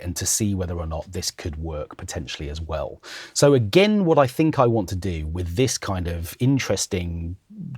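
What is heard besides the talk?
No distinct noise like a dog, phone or traffic.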